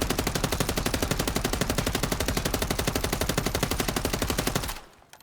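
Automatic gunfire in a video game as a full magazine is emptied: a rapid, even stream of loud, sharp shots for about five seconds, then the firing stops abruptly and near silence follows.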